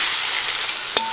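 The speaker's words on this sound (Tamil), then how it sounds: "எண்ணெய் சூடாயிருச்சு. இப்ப பொடிசா வெட்டி வச்ச சின்ன வெங்காயம் 400 கிராம்," 400 grams of finely chopped small onions (shallots) frying in hot oil and ghee, a steady near, loud sizzle with a brief stirring clink near the end.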